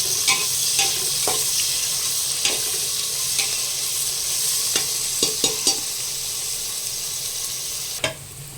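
Onions, tomatoes, rock salt and spices sautéing in hot oil for chicken biryani, a steady sizzle and fry running throughout with a spoon scraping and stirring the pan in scattered clicks and taps, close up, no voices.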